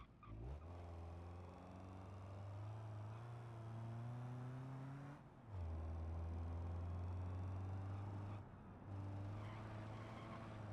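Diesel-engined kei truck driving, a low steady engine drone that climbs in pitch, cuts briefly around two gear changes, then pulls again, close and continuous.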